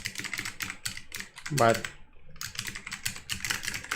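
Rapid typing on a computer keyboard with a Dvorak layout, fast irregular clatter of keystrokes close by, with a brief spoken word in the middle.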